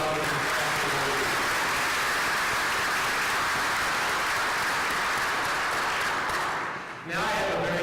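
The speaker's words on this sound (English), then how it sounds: "Let's have a round of applause for the past awardees." Sustained applause from a banquet audience honoring past engineering alumni awardees, a dense, steady wash of many hands clapping that fades out near the end, with a voice briefly audible as it trails off.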